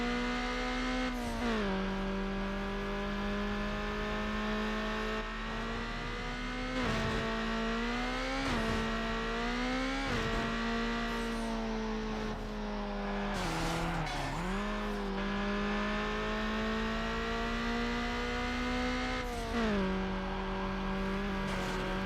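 A Nissan 240SX races in the PS2 game Need for Speed: Underground: a sustained, close engine drone whose pitch repeatedly drops and climbs with gear shifts and revving, with occasional tire noise.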